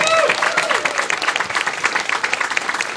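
Audience applause fills a crowd gathering in Richmond, BC, steady dense clapping throughout with a brief whistle at the start, sustained and fairly loud.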